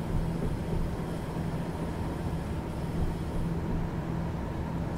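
A Class 37 diesel locomotive running on the Wherry Lines between Lowestoft and Norwich in Train Simulator 2019, giving a steady low engine drone and rumble with an even hum throughout and no speech.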